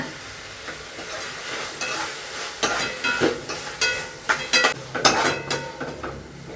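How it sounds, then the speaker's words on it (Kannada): Tomatoes fry in a hot tempering of oil and hing, sizzling close by while a spoon stirs and scrapes the pan in a run of distinct clanks and swishes. "ಟೊಮೊಟೊ ಚೆನ್ನಾಗಿ ಫ್ರೈ ಆಗ್ತಾ ಇದೆ"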